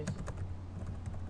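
Rapid typing on a computer keyboard, a quiet run of light irregular key clicks close by, with no one talking.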